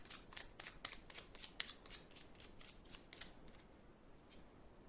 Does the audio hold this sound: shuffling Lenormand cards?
yes